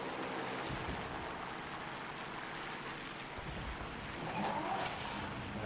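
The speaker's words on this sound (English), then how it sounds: "I can hear a tank. And it sounds like a T-26." A T-26 tank engine in War Thunder, a steady broadband rumble with a continuous low drone that holds throughout and swells slightly toward the end, with no talk over it.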